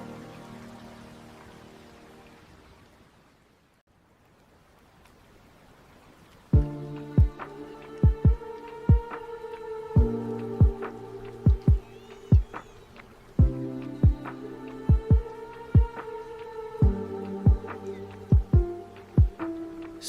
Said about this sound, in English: Soft heartbeat,